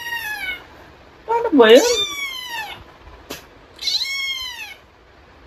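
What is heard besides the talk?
cat meowing sounds played to cats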